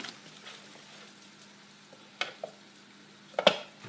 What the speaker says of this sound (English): Here's my second batch of spinach. Stirring that in.